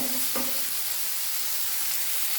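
Tomatoes fry on high flame for a green peas curry, sending up a loud, continuous sizzling hiss that holds steady throughout, with a brief stirring knock near the start.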